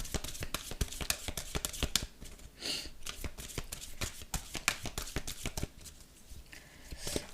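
Oracle cards being shuffled by hand: a quick run of crisp, close riffling slaps and flicks in an irregular rhythm, fairly quiet, with no talking.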